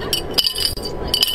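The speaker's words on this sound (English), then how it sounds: "I have a glass bottle and a cap." A glass bottle and its cap clink together in a few sharp, bright ringing taps, loud and close with brief pauses between them.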